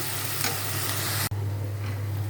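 Spices fry with a steady, close sizzle in a hot pan as they are stirred, the hiss continuing almost unbroken apart from a brief cut.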